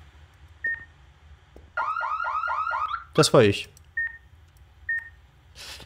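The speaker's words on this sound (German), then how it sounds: "warum hört denn das nicht auf zu piepsen?" A device in Ghost Exile beeps in short, evenly spaced single tones, while a voice speaks over a burst of warbling electronic chirps partway through.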